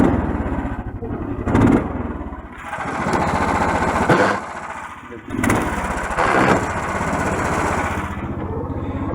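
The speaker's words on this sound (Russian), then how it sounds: "Переключаемся на перегазовке." A motor engine revs up and drops repeatedly as gears are shifted with rev-matching blips, loud and close, with rising surges around each shift and a rough idle between.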